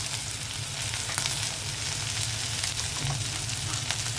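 Sliced okra sizzles in hot oil in a pan: a loud, steady, close-up frying hiss with small crackling pops throughout and faint stirring, no one talking.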